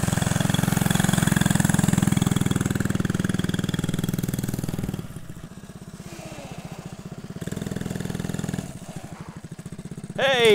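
A small mini bike engine idles in cold weather to warm up, a loud, close, steady putter that drops to a lower, rougher idle partway through, with a brief squeak near the end.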